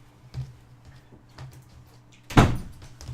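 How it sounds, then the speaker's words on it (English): An indoor door swings shut with a single firm thud near the end, after a few soft creaks and taps of handling, in a quiet room. "let me close this door"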